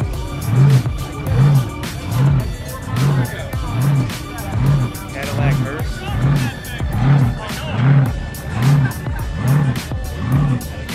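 At a large cars and coffee meet, a loud car engine throbs in a steady, regular pulsing rhythm close by, with crowd chatter and voices around it.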